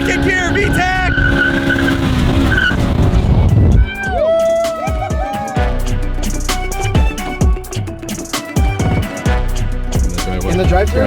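A car accelerates hard in second gear with VTEC engaged while its tires skid and squeal, rising and sliding whines over a loud engine roar, with excited people shouting and talking over it throughout.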